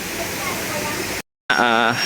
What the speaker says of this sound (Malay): Betul-betul depan sungai.